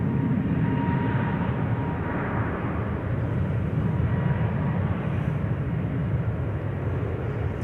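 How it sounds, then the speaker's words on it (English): A Transavia Airbus A321neo jet airliner lined up on the runway at Amsterdam Schiphol sends out a continuous, loud engine roar with a broad, steady rumble that barely changes across the stretch. "Lined up is a Transavia A321neo to Barcelona"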